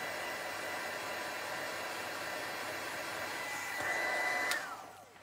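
A hair dryer blows to dry a craft embellishment on an altered rustic bottle, a steady close whoosh that swells briefly near the end and then cuts off.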